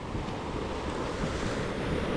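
Steady, continuous roar of big ocean waves breaking on a sandy beach shore, loud and close with wind buffeting the microphone and no voices.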